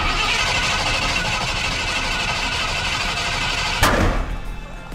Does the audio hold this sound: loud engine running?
yes